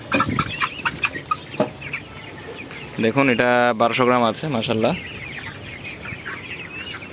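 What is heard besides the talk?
chickens clucking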